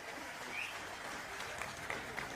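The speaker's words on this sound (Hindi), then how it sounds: "मैं चाहता हूं एक बार जोरदार ताली उनके लिए बजाएं।" A crowd at an election campaign rally in Latur, Maharashtra, breaks into a short burst of steady, dense clapping, moderately loud and continuous.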